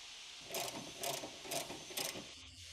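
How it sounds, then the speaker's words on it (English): Telescopic ratcheting wrench loosening the mounting bolt between the lateral control arm and knuckle on a 2007 Subaru Impreza GD, four evenly spaced bursts of rapid pawl clicking, close and clear with no talk. "Use a 19mm wrench with a 19mm short socket and a telescopic ratcheting wrench to remove the mounting bolt"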